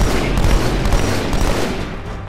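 Dense, loud gunfire from the Halo 2 video game, a continuous rapid barrage of automatic shots and blasts with no pause.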